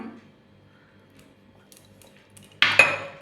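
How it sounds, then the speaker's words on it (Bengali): Spoon clinking against a pan as beaten yogurt is added to chicken for a Kolkata-style rezala, a quiet stretch followed by a couple of close metallic scrapes and taps. "ফেটিয়ে রাখা ভালো করে টক দই আছে দুশো সেটাকে দিলাম"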